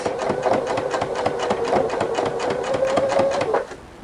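A Husqvarna Viking sewing machine with a ruffler attachment stitches through two layers of fabric, its fast rhythmic mechanical chatter running steadily and close up before stopping abruptly near the end.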